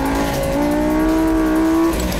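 A loud Lamborghini Gallardo engine revs steadily upward in pitch over a couple of seconds, the rising tone swelling close and strong.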